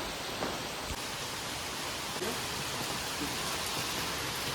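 Heavy rain pours down in a steady, loud broadband hiss that stays even throughout, with a few faint thumps near the start and no speech.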